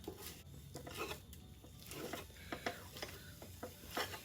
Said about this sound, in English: We're going to break the meat up.